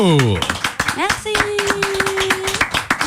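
Quick hand claps ring out in a lively burst, with voices and a sustained sung note running underneath.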